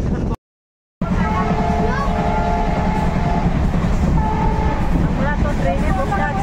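Brahmaputra Mail train running at speed, heard from inside a passenger coach crossing Dipor Bil: a loud steady rumble with rhythmic wheel clatter and a few squealing tones, cut by a brief silent gap near the start.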